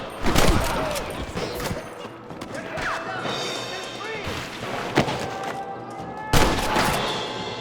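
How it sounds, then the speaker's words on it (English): Gunfire in the Western video game Red Dead Redemption: a string of sharp, irregular gunshots, some close and loud and others farther off, with a few heavy bangs and voices shouting among them. "Shots."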